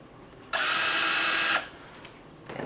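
A power drill drives a screw into a Scout D model rocket in one loud, steady burst of about a second, close by, with quiet before and after.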